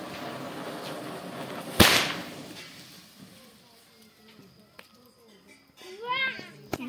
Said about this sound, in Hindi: दोनों पटाखे एक साथ होने वाले हैं।